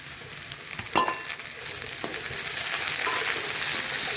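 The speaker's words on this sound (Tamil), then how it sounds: "தக்காளியும் நல்லா வதங்குற வரைக்கும் வெயிட் பண்ணணும்" Tomatoes sautéing in a pan over cooked bottle gourd for chutney, a steady sizzle that grows slightly louder, with a single stirring knock near the start and no voices.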